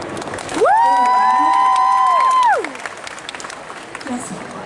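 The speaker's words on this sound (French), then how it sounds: "Et applaudissez donc Anthony." At a cosplay contest, one long, loud sustained whoop rings out over the crowd, followed by lighter scattered applause and cheering from the audience.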